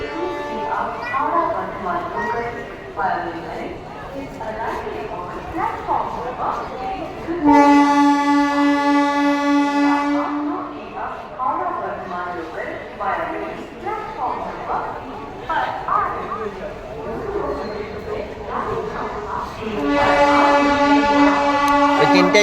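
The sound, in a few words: passing train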